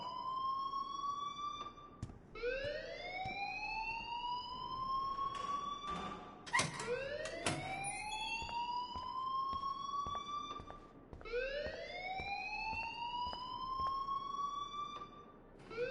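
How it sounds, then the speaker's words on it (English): School alarm in the video game Life is Strange wails in repeating rising sweeps, loud and continuous, each cycle climbing in pitch then cutting off and restarting, with faint clatter beneath. "please turn off that alarm since that's your job"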